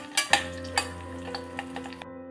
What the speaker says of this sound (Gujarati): હવે બધી વસ્તુને આપણે સરસ રીતે મિક્સ કરી લેવાનું છે અને થોડીક વાર માટે આપણે સાતરી લેશું